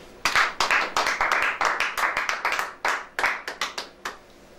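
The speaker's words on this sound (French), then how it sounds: "On acclame Jésus" Church congregation clapping in praise of Jesus, a fast irregular run of close, loud hand claps that trails off toward the end, with no clear cheering voices.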